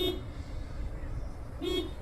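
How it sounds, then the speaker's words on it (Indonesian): A 2022 Toyota Voxy horn sounds in two short honks, one at the start and one near the end, fairly thin and moderately loud, with a quiet gap between them. "Sebelum belakang kita nyoba nih bunyi klaksonnya."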